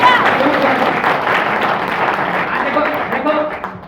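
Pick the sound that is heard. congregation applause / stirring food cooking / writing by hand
congregation applause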